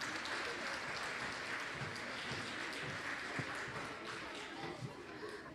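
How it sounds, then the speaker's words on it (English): Audience applause at a middle school band concert, a steady, fairly soft wash of many people clapping that carries on evenly throughout, with some voices mixed in. "So you should give them a round of applause and really be proud of them."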